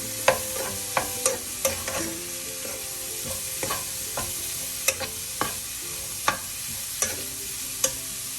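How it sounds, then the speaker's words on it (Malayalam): Cauliflower and onions sizzle in a hot pan while a spoon stirs them, giving a steady frying hiss broken by regular scraping knocks against the pan, close and clear with no talking. "കോളിഫ്ലവറിന് ഇതെല്ലാം കൂടി ചേർത്തൊന്ന് മിക്സ് ചെയ്യുക"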